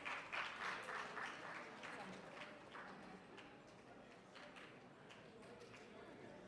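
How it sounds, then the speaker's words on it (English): Applause from the audience at a university convocation ceremony, a steady wash of clapping that starts strongest and tapers to a fainter, even patter over several seconds. "A round of applause, please."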